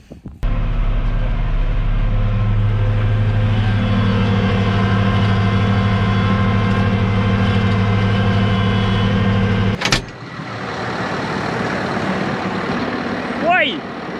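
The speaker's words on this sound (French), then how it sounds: "je retourne au tracteur" A tractor rumbles steadily at close range with a deep engine drone while working a field, then a sharp clunk breaks in and the engine note shifts to a rougher, lighter running sound.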